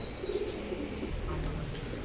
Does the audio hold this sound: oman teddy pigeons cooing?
yes